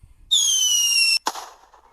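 A Sikoly firework rocket launches with a loud, steady shrieking whistle lasting close to a second, then bursts in a sharp bang followed by a fading crackle, heard alone outdoors.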